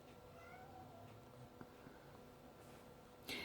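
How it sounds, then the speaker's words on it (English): Cat yowling insistently to be let outdoors, a faint, drawn-out meow under steady room noise, with a soft thump and a brief rustle near the end. "the cat had to go out, and he was going to scream till I let him out"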